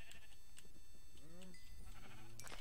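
Sheep bleating in the video game Minecraft, two short wavering bleats close together over a busy background of game sounds.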